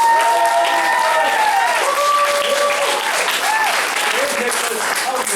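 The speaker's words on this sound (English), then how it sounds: "big round of applause!" Audience at a martial arts belt ceremony for a five-year-old student breaks into loud, continuous applause, close and dense, with voices and cheers mixed in.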